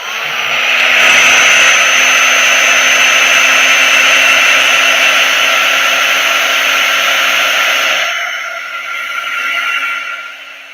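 A hair dryer blows loud and steady over a collage art journal page with a constant whine and hum. Near the end it eases off and rises again briefly.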